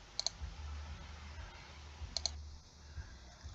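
Computer mouse clicks while working in SolidWorks CAD software: two sharp close double clicks, one near the start and one about two seconds later, over a quiet low hum with no talking.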